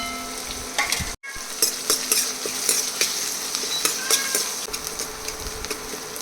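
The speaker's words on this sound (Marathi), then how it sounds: "तेल मस्त तापलं आहे कांदा चिरलाय कांदा टाकते" Chopped onion drops into hot oil and sizzles loudly and steadily from close range, with a brief dropout near the start, then continuous frying crackle and occasional utensil scrapes.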